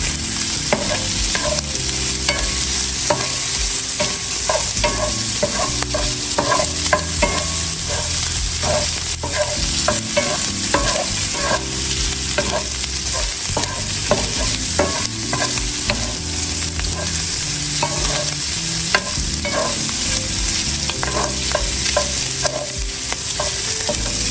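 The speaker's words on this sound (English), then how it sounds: "make sure you brown your sausage real good" Sausage browns in a hot pan for dirty rice, a loud, steady sizzle and crackle running throughout, with frequent scraping and clanking of a spoon stirring close by.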